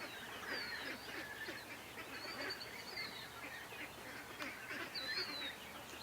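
Ducks kept outdoors on a homestead, faint scattered quacks and honking calls over a steady noisy outdoor background, fairly distant and low in level.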